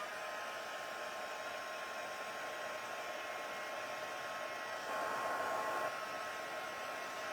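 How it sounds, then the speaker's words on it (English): A heat tool drying stamped paper blows a steady, even whoosh of hot air that runs unbroken and fairly quiet throughout. "I don't know if I can speed it up with my heat tool."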